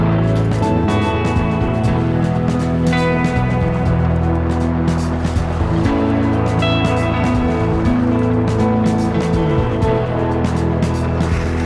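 Sailing boat out at sea across Lyme Bay in a good wind, a steady wash of water and wind noise with hull creaks and small splashes throughout, close and continuous.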